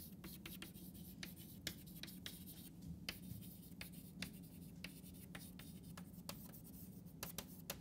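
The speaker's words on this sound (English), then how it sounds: "Let us write down that." A lecturer writes notes, with continuous scratchy strokes and quick tapping marks in an irregular rhythm, close and fairly quiet over a low room hum.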